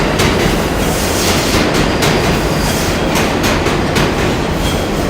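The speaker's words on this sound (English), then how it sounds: "Oh, I hear a train a-comin'. It's rolling around the bend." A Manhattan-bound subway train passing near the Brooklyn Bridge, loud and continuous rumbling with rhythmic clickety-clack of wheels over rail joints and faint squeals, filling the whole stretch.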